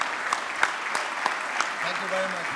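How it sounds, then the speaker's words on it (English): A crowd claps steadily in a dense wash of applause, with a voice talking faintly near the end. "I think we should all have a great round of applause for John for all the efforts he's put togeth"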